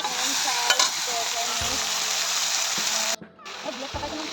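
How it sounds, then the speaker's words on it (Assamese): Chicken frying in a pan at an outdoor family picnic, stirred with a steady loud sizzle and scraping, with a brief drop in level near the end and talk underneath. "অলপ সময় লৰাই থাকিম ফ্ৰাই হোৱালৈকে"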